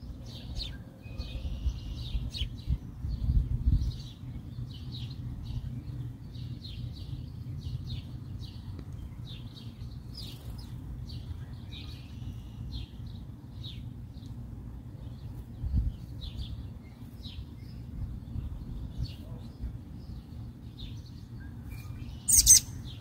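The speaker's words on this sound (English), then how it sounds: "Bird." Small birds chirp and tweet outdoors beside garden beds mulched over tilled and no-till soil, short scattered calls repeating through a steady low outdoor rumble, with one louder call near the end.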